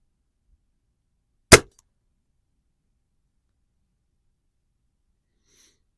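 A single sharp crack of a Gamo Swarm Whisper air rifle shot striking the wire of a target rack, brief and close, followed by near silence.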